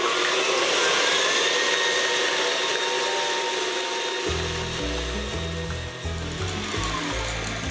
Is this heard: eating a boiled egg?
no